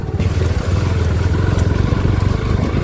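A motorbike rumbles steadily and close on a rough, broken road in hilly country, its engine droning without a break and no voices over it.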